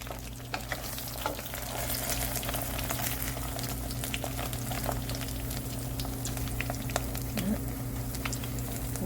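A homemade hair-oil mixture of ginger, aloe vera, vitamin E oil and coconut oil simmers in a pot, giving a continuous soft frying hiss with scattered small pops and crackles over a low steady hum, heard nearby and without talk.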